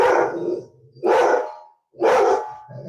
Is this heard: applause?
no